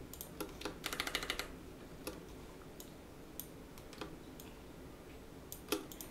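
Computer keyboard keys pressed while holding Alt and tapping the arrow keys, a quick close burst of clicks followed by sparse single taps over a faint steady background hiss.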